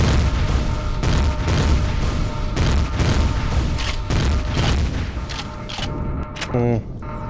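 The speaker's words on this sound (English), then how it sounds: "My ion cannons want to destroy that thing" Rapid booming blasts of ion cannons in the game Empyrion - Galactic Survival fire in quick succession, loud and close, forming a dense barrage of heavy energy shots that ends with a short electronic chirp.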